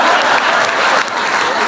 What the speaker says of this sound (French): Applaudissez-le comme ça.